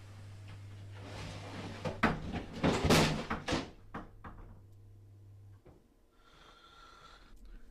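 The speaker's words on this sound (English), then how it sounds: "the door, like behind my fat head and bubble, moved open, and then something fell out" A door swings open with a creak, followed by a dull clatter of something falling out, then a quiet room with a faint hum.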